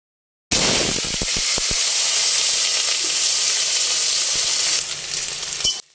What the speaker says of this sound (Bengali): নীলাদ্রির জন্যই অল্প করে একটু আলু ভেজে নিচ্ছি।